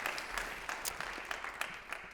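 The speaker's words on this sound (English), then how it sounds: "Another round of applause for the panel." An audience claps for a conference panel at the Outlook Williamson 2022 event, steady mid-distance applause filling the whole stretch with scattered louder claps and no talking.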